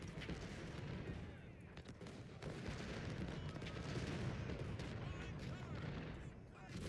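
Civil War battle in Ultimate General: Civil War, with cannon fire and musket volleys merging into a constant rolling roar, booming shots rising out of the dense din and a voice faintly underneath.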